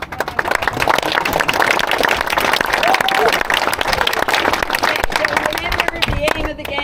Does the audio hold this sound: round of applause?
yes